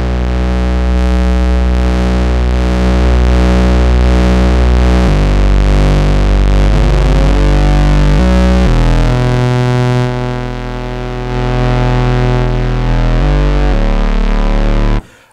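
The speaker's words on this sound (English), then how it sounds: "you can start to hear the effects of what the CP3 mixer does, which adds all this additional drive" Thick, sustained synthesizer oscillator drones growl with heavy overdrive distortion from the CP3 mixer, the buzzing tone shifting pitch in steps and holding loud throughout before cutting off.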